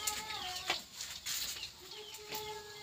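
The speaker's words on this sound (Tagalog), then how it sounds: "Kulungan po ng manok po yan." Chickens clucking in short bursts inside a coop, fairly close, with a few sharp calls and rustling between them; no one talks.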